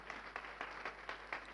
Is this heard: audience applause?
yes